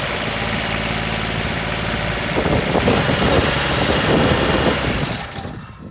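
A Scag Turf Tiger II ride-on mower engine runs close by with a loud, steady mechanical clatter and knocking chug, dipping briefly near the end.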